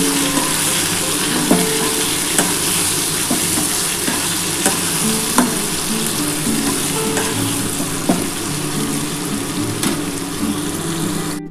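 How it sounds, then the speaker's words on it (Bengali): Chopped onion and tomato frying in a pan for a spicy drumstick and potato curry, a steady close sizzle with occasional sharp clinks of a spoon stirring against the pan. "পেঁয়াজ আর টমেটোটা দিয়ে আমি কিন্তু ভাজবো।"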